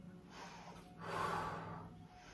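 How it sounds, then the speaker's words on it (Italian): Breathing during a seated chair-yoga leg exercise, with a soft inhale followed by a longer, louder exhale in a quiet room. "Butto fuori quando stendo, inspiro"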